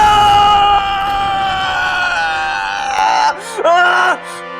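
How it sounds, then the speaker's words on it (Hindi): A boy screams in a TV drama, loud and close, with drawn-out wailing cries that rise and break over a tense musical backdrop. "ये तेरे पोते की चीख थी,"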